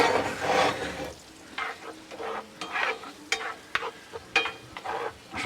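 Food frying in a pan and being stirred, with close scraping strokes and short irregular bursts of sizzle, alone without talk.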